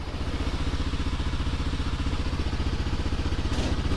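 A motorbike idling close by before a ride on muddy trails, with a steady, rapid pulsing engine beat and some clatter, loud and continuous with no talking.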